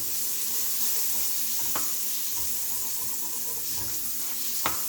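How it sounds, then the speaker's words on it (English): Garlic sautés in a pan over low to medium heat, giving a continuous close sizzle with a few faint clicks and scrapes. "Cook the garlic for about a minute or two."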